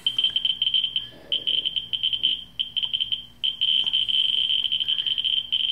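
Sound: radiation survey meter clicking counts

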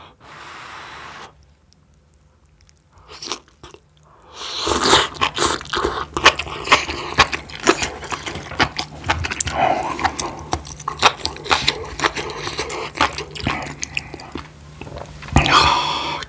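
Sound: chewing noodles and enoki mushrooms

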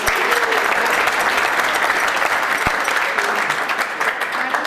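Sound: audience applause at squash final

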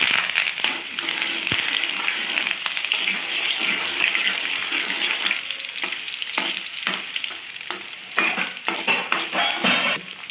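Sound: dried red chilies and curry leaves frying in oil

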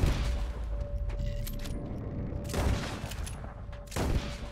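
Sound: gunshots at rope in video game Red Dead Redemption

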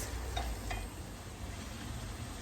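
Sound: sautéing tomatoes and pepper paste in a pan

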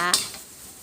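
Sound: stir-frying clams in a pan with sauces

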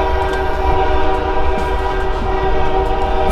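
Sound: passing train sounding its horn

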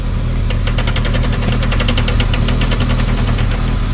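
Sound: Powertrax locker ratcheting as the wheel turns

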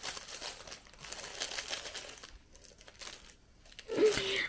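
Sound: crinkling small pink gift pouch being opened

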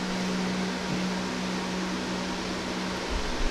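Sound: electric fan blowing

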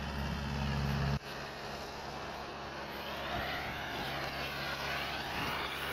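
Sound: Mahindra 575 tractor pulling out loaded

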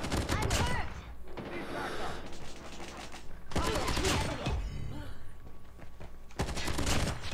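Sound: gunfire in video game Call of Duty Mobile

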